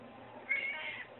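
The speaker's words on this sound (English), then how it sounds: "But here's a cat." A cat lets out a single drawn-out meow, faint and muffled over a low steady background hum.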